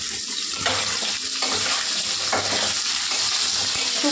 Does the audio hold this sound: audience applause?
no